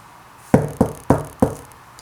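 Four sharp knocks on a door in an uneven rhythm, close and fairly loud, with no talking over them.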